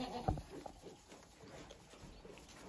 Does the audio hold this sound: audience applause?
no